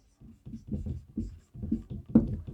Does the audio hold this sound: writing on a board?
yes